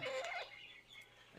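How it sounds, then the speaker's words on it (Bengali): A large Light Brahma rooster clucks and calls close by, a short burst of throaty sounds that fades to quiet. "এটা রাতা"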